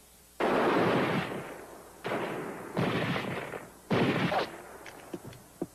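Rifle gunfire in a dubbed western film, four loud, close shots spaced a second or so apart, each with a long echoing tail, followed by faint clicks.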